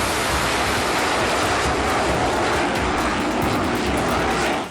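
An American F-35 fifth-generation fighter jet roars overhead, a loud, broadband, continuous rushing engine noise that holds steady and then cuts off abruptly at the end.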